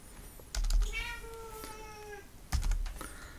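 A house cat meows twice, drawn-out and plaintive, close to the microphone in a room where keyboard typing and soft thumps are also heard.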